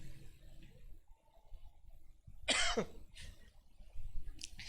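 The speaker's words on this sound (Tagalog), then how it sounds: "Ako inuubo." A single sharp cough stands out amid quiet background murmurs, followed by a couple of fainter throaty bursts.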